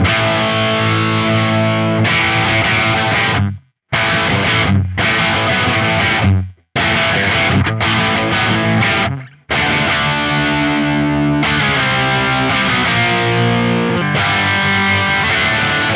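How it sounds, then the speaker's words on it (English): Heavily distorted electric guitar through a Marshall 2203 amp model on a Neural DSP Quad Cortex, chugging and strumming chords with short stops between phrases, loud and close, with no talking. "This is the stock British 2203, which is the Marshall that it comes with."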